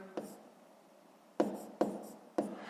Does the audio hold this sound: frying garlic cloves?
no